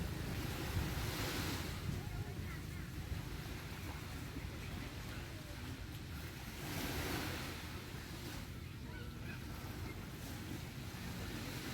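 Sea waves at Bang Saray beach in Thailand, a soft broad wash of surf that swells and recedes, mixed with gusty wind buffeting the microphone, faint and continuous.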